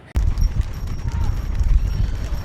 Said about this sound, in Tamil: பாஜகவினர் சார்பில் மாட்டுவண்டி பந்தயம் அறுபத்தி எட்டு ஜோடி மாடுகள் பங்கேற்பு